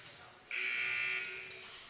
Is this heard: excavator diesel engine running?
no